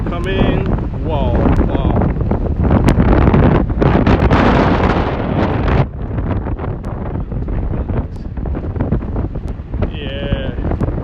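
Strong wind and rain on a London street, with gusts roaring and buffeting the microphone in a steady loud rush and rain spattering throughout, while voices speak briefly over it.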